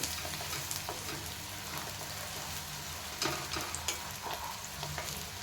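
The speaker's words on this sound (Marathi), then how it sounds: "चांगला गुलाबी रंग छान असा भाजून घ्यायचा कांदा" Onion frying in a pan for shipi amti: a continuous close sizzle under occasional scraping stirs, steady and fairly loud throughout.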